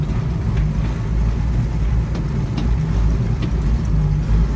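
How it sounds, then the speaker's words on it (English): A 1967 Ford Mustang being driven, heard from inside as a steady loud low engine rumble with road noise throughout, no talking. "it's not every day you drive a 1967 Mustang too"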